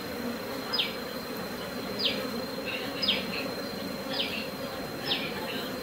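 A honeybee swarm flying into a hive kept indoors, a constant low droning buzz with individual bees whizzing close past every second or so, fairly loud and free of speech.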